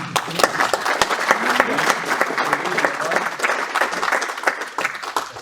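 Audience applause at the inauguration of a supply chain reference framework, a steady wash of many hands clapping filling the room for several seconds, with scattered voices under it.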